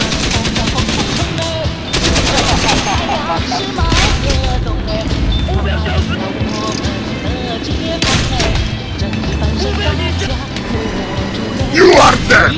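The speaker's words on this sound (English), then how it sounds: "Heavy machine gun." Heavy machine gun fire in War Thunder, long loud bursts of rapid shots mixed with booms and explosions, continuous and close, with a voice speaking briefly amid the din.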